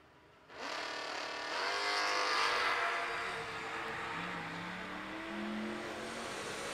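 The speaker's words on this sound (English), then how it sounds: "First pair in door cars in both lanes." Drag racing door cars launch down the strip, a loud engine roar bursting in abruptly and holding steady at full throttle for several seconds before easing slightly as the cars pull away.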